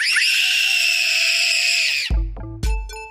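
A long, shrill scream rises and holds for about two seconds, then breaks into a few short, loud clattering bangs and metallic knocks.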